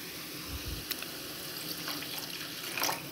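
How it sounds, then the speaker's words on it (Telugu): Water poured into a pan of mushroom curry seasoned with salt and chili, a soft, faint splashing trickle with a few light clinks, no voices. "ఒకసారి మిక్స్ చేసుకుని వాటర్ వేసుకోవాలి"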